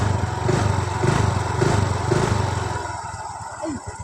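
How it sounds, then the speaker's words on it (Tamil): A motorcycle engine chugs at idle with a steady, loud exhaust pulse close by, its rhythm rising a little before fading slightly toward the end. "வண்டி அந்த எக்ஸாஸ்ட் சவுண்ட் அந்த சிலிண்டர் பக்கத்தில் அந்த இடத்துல"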